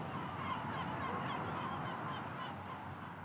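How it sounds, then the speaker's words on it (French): A flock of flamingos honks in a dense, goose-like chorus over a lagoon on the Giens peninsula on the Mediterranean coast, a steady faint clamour of overlapping calls heard from a distance. "Alors déjà, il y a des flamants. Regardez, oui. Hop, ils descendent en volant, là."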